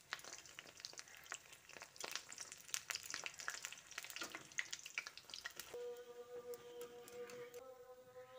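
Pumpkin leaf rolls fry in hot oil with a busy, crackling sizzle; midway a steady, high tonal hum joins the frying, which continues close and moderately loud throughout.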